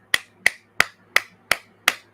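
Six sharp, evenly spaced hand claps ring out close and crisp, one about every third of a second, with no talk over them.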